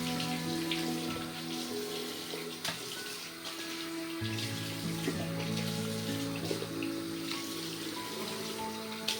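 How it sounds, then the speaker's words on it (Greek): Cold water running from a tap to rinse a razor after a traditional shave, a steady close splashing stream with occasional clinks and knocks. "κρύο νερό πάντα, το ξεπλένουμε μετά το ψήρισμα."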